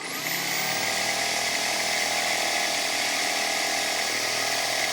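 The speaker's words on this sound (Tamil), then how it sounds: "இப்போ நல்லா அரைச்சி வருது தூளாக வருதுங்க" A homemade flour mill grinds grain into powder with a loud, steady mechanical whine and rattling hum that runs unbroken throughout, with no talking over it.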